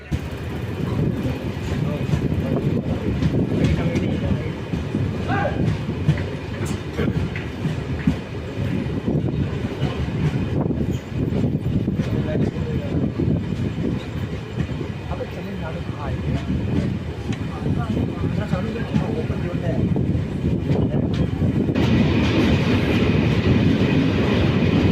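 The Kurla Express passenger train from Coimbatore to Mumbai LTT runs on rails with a continuous loud rumble and rolling clatter heard from on board, with faint voices under the noise.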